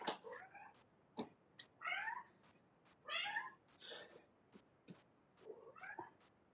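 A house cat meowing indoors: a series of close, moderately loud meows in an irregular rhythm, mixed with sharp clicks and taps.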